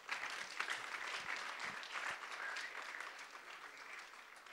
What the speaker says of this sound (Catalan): Un aplaudiment, si us plau.